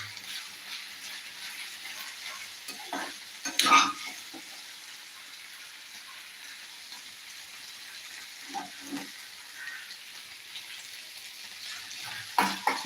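Okra being stirred in hot oil in a pan, a soft steady sizzle with a few louder scraping strokes of the spoon standing out against the quiet crackle.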